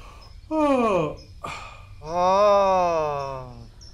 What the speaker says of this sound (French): avec un bâillement très ample et généreux.